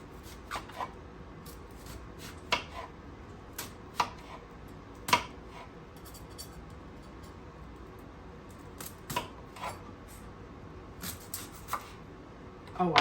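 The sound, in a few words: knife chopping food on a cutting board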